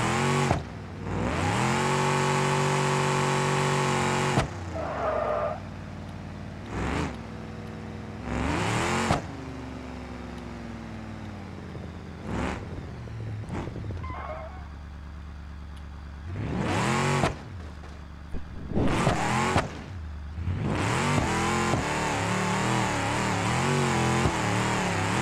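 A car doing a burnout in the BeamNG driving game, its engine revving hard in long loud surges with whining tire spin, broken by short pauses and gear-change drops, close and alone without talk.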